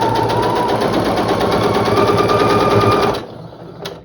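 A sewing machine slowly stitching through a quilt block gives a steady, close mechanical whir with a rapid needle rhythm for about three seconds, then stops.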